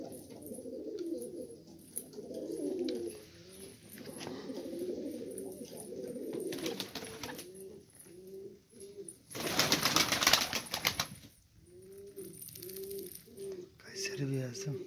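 Kayseri white pigeons coo repeatedly in soft, rhythmic phrases close by, with a burst of wing flapping in the middle and someone talking quietly over them.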